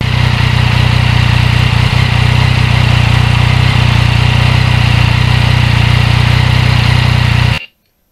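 Steady engine drone from a 2020 Yamaha MT-09 motorcycle while riding, loud and constant with a low throbbing tone and wind rush, running unbroken for about seven seconds before cutting off abruptly.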